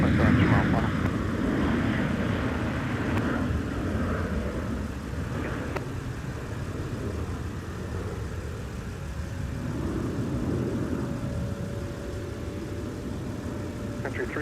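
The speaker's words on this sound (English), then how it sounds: "Back-to-back-to-back departures on 12 right." Airliner climbing out on departure from runway 12 right at Minneapolis–Saint Paul airport, a steady broad engine roar holding for the whole stretch with a faint tonal whine rising in the background; speech energy appears in the mix.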